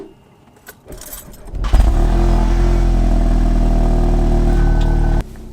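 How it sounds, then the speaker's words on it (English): Keys jingle briefly, then a tuned 600bhp Volkswagen Golf R engine cranks and catches, settling into a steady, fairly loud idle hum that continues for several seconds. "Now I'll go and start the engine"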